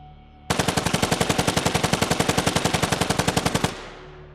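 Designed weapon gunfire effect: a sustained burst of rapid, evenly spaced automatic shots, loud and punchy, running about three seconds before stopping abruptly and leaving a short fading tail.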